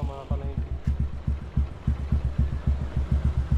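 Warmed-up motorcycle engine idling close by, a low, steady thumping putter with a regular rhythm throughout.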